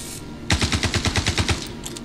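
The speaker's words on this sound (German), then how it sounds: "aus dem Scharfschützengewehr 2 Schüsse und der bleibt stehen" Gunfire in the video game Star Citizen: after a moment of quiet, a rapid, evenly spaced string of about a dozen loud shots sounds close, then stops abruptly.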